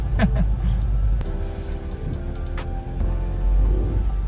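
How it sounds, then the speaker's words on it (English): A Ford Ranger on oversized new wheels driving slowly on a road, a steady low tyre and road rumble with engine hum, plus a few scattered clicks and knocks, and a voice briefly talking over it. "Well, there's definitely a bit of tyre noise."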